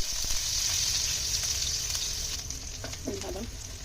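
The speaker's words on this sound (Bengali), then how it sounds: "আমি এখন তেল দিয়ে দিচ্ছি।" Onions sizzling in hot oil in a pan, a steady bright frying hiss with a few stirring scrapes and a brief faint voice near the end.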